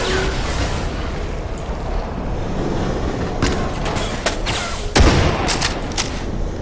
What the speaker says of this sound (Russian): Я тебе сейчас кину гранату.